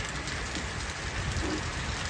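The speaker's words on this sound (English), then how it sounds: "It has been raining for a few hours now." Steady rain falls over a farm field in a dense, continuous hiss of drops, close and even, with no voices.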